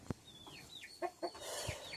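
Several chickens clucking softly nearby, with short squawks and chirps scattered through a quiet, close-up farmyard moment.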